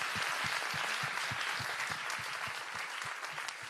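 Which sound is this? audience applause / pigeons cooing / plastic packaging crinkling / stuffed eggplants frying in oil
audience applause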